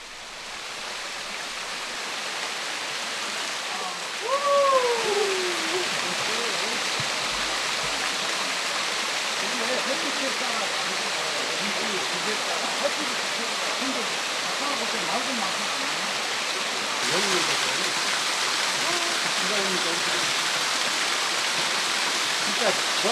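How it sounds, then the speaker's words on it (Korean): Large and small waterfalls and streams on Moaksan mountain rush in a steady, loud broadband roar, with birdsong chirping over the water throughout. "곳곳에 크고 작은 폭포들이 금만 평야를 살리는 생명수를 흘려보냅니다."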